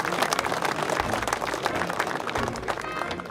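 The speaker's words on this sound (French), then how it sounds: "vous pouvez les applaudir" A crowd applauds hunt beaters and their dogs after a wild boar hunt, steady scattered clapping at moderate distance, fairly faint and continuous throughout.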